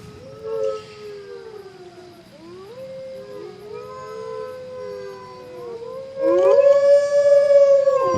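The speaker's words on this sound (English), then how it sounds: "There's a bunch of these wolves somewhere." Wolves howling in Assassin's Creed Odyssey, several long rising and falling howls overlapping from a pack, building to a loud, close chorus near the end.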